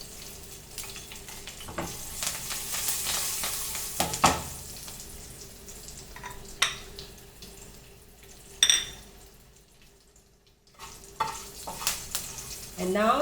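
Whole Kashmiri chilies and methi seeds sizzle steadily in hot oil for a Bihari-style mustard masala fish fry, a continuous close frying crackle with occasional stirring clinks and a brief quieter gap near the end.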